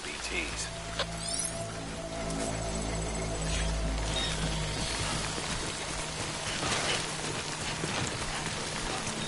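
Steady rain falls on a surface in a video game, a continuous wash of drops heard throughout beneath low hum and music-like tones, with no one speaking over it.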